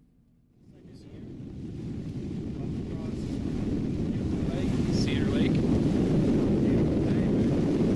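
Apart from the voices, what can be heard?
wind on a lake while canoeing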